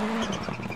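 A rally car in Dirt Rally 2.0 racing on a flat tyre slides sideways in a brief drift, tyres squealing over a loud engine roar, close and continuous.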